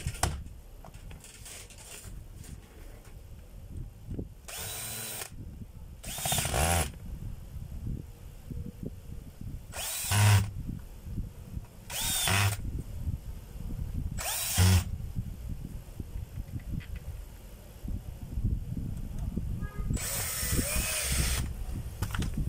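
An electric drill, just repaired with a new chuck, field coil and cord protector, runs in about six short test bursts. Each loud whirring spin is separated by quieter workshop handling noise.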